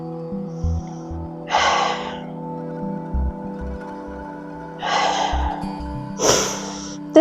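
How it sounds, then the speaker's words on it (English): Deep, audible breaths drawn during a yoga flow from a floating lunge, three long airy inhale-exhale bursts spaced apart over a quiet background with a faint low hum. "Breathing deeply."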